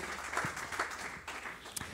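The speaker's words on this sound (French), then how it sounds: "Eh ben voilà, on vous applaudit" Quiet applause from the audience at a family-business awards ceremony honoring a hotel, scattered clapping heard faintly and at a distance for about two seconds.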